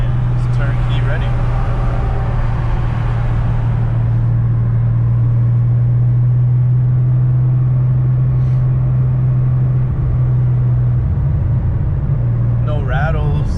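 A 1977 Porsche 911 RSR tribute's engine drones steadily and loudly from inside the cabin while driving, holding a strong low hum that shifts near the end as revs change, with people talking over it.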